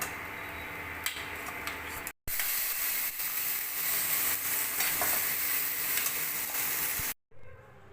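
Boiled papaya seasoned with salt and turmeric sizzling in a wok, with a dense, even frying hiss and occasional stirring ticks, broken by two brief abrupt cuts.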